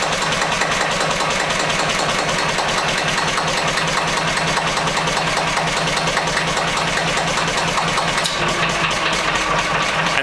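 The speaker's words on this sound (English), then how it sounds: "And the generator will shut down." A Listeroid diesel generator engine thumps along at a steady, even idle, loud and close throughout, with a slight change in tone near the end as it begins to wind down.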